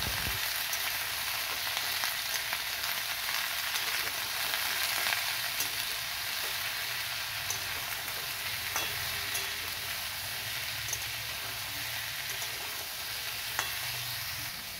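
Pumpkin and ridge gourd pieces fry in oil in a pan, giving a steady, continuous sizzle with occasional stirring scrapes, close and without voices.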